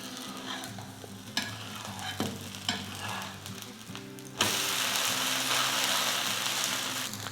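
An ash gourd dosa is flipped on a hot pan, with a few scraping taps of the spatula followed by a sudden, steady, loud sizzle of frying batter that continues close up.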